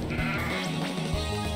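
A sheep-type Pokémon's cry from the game Pokémon Uranium: a loud, wavering synthetic bleat lasting over a second, heard alone with no talk over it.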